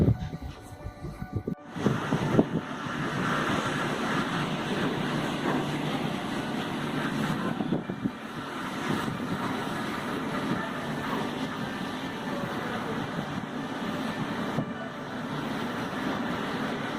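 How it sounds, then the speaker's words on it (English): Rough open sea in the Roaring Forties on a voyage to Antarctica, with waves breaking and wind rushing in a continuous loud wash, after a brief bump at the start. "The waves are breaking within the sea"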